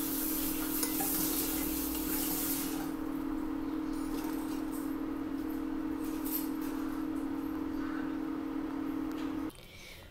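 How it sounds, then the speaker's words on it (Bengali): Rice with salt stirred in a wok for tawa pulao, a close, continuous sizzling hiss with scraping stirs and a steady low hum underneath, no talking, ending abruptly. "এবার নুন যোগ করে চালটাকে ভালোভাবে নাড়াচাড়া করে নিলেই তৈরি হয়ে যাবে আজকে তাওয়া পোলাও"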